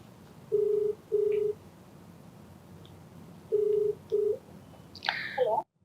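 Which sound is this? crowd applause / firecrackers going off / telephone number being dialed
telephone number being dialed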